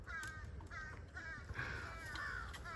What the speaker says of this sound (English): There are crows around too